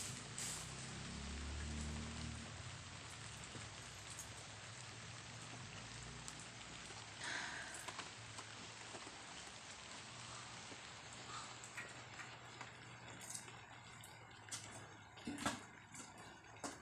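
Steady rain falls throughout, a dense continuous patter with a few louder splashes or knocks near the middle and end. No one speaks.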